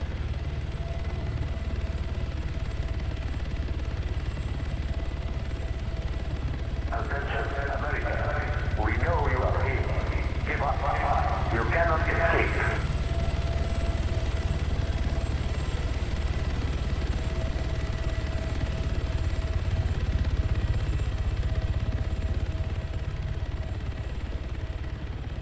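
A game or simulator search helicopter fitted with a searchlight and PA system drones steadily with a constant engine hum, while a voice speaks briefly partway through.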